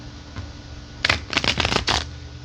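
A deck of tarot cards is riffled and shuffled close up in a few quick, crisp bursts of flicking card edges, set against a quiet room.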